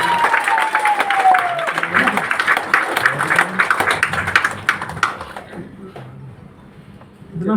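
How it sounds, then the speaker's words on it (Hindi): Audience clapping at a store introduction speech gathering, a busy patter of hands over several seconds with a brief voice at the start, thinning out and dying away toward the end. "कैसा लगा वो ताली से बताएं"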